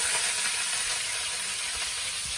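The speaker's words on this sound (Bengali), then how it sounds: "চলো এই যে পেঁয়াজ লঙ্কাগুলো আগে ভেজে নেব" Onions and green chillies frying in ghee for chow mein, giving a soft, steady sizzle and hiss that stays fairly faint and continuous.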